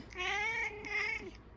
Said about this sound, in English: Excuse my cat here.